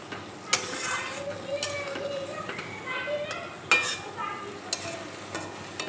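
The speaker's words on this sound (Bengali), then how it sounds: "জল দিয়ে আবারও একটু নেড়ে চেড়ে নেব।" A spoon stirs ground spices loosened with water in a pan for omelette curry, giving quiet scraping strokes and occasional sharp clinks against the metal over a faint, low sizzle.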